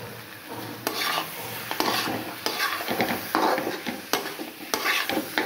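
Chicken ghee roast fries in a pan while a utensil stirs it in repeated scraping strokes over a steady close sizzle, with occasional metallic clinks against the pan.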